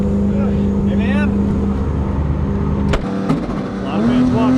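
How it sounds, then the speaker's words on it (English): A Formula Drift car engine roars loudly at close range during a hot lap, holding a steady high drone with a brief sharp cut and rev change midway before climbing again; a voice speaks over the din. "There goes the engine."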